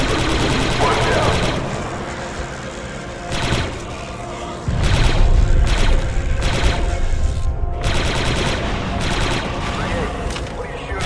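Rapid bursts of blaster gunfire from Star Wars Republic Commando ring out in loud, repeated volleys over a busy battle mix, with voices talking in between.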